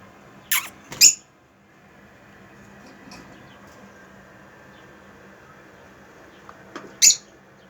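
Inside a budgie nest box with five week-old chicks, a few sharp, high squeaks sound in brief bursts near the start and again near the end, with quiet stillness between.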